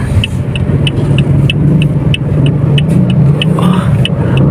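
A Toyota Vios being driven onto a workshop lifter, its engine holding a steady low rumble close by, with light mechanical ticking over it.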